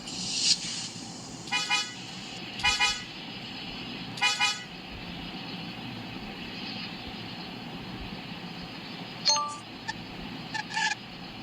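Ferrari in the Dr. Driving mobile driving game, with several short bright horn toots spaced apart over a steady low engine hum, plus a couple of thin clinking blips near the end.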